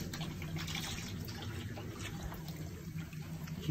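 Water filling a Williamson GWA-070 gas boiler through an open fast-fill valve during heating maintenance, a steady low rushing trickle through the pipes, faint and continuous.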